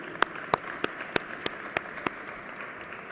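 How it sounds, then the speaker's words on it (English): Clapping rings out at a public announcement event for a JFK airport revamp: about seven sharp, evenly spaced claps over quiet room noise. "I think everyone should give each other a big round of applause"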